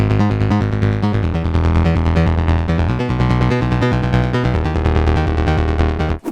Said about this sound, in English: all of the sounds you're hearing are coming out of the Volca Keys